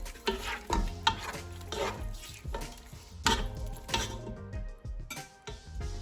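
Garam masala and lemon juice being mixed into a prawn biryani base in a pot, busy scraping and clinking of a spoon against the metal pan over a soft sizzle, close and continuous.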